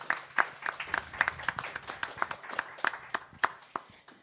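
A small club audience claps for a band, sparse individual hand claps at close range forming an uneven, thin patter that thins out toward the end.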